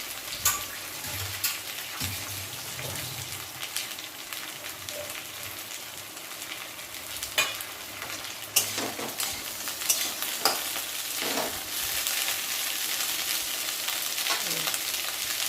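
Chopped capsicum sizzles in a pan, a constant close crackle broken by a few sharp scraping stirs and utensil knocks.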